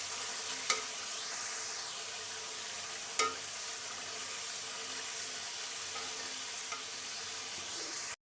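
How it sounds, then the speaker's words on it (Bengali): Spice paste (masala) sizzles steadily in a pan while being stirred, a continuous close frying hiss broken by a few sharp clinks of the spoon against the pan. "এখানে কিন্তু আমার মশলাটা কষানো হয়েছে"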